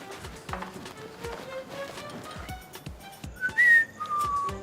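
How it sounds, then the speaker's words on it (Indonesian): A man whistles indoors at night, a short rising tune with two sustained notes near the end, mixed with clopping thumps and faint background voices. "jangan siul malam-malam"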